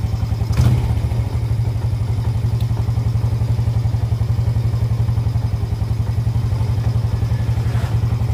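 A Honda Jupiter Z motorcycle with weak, sluggish power and a stalling idle, its engine chugging loud and close in a steady rapid pulse, with a brief blip of throttle early on.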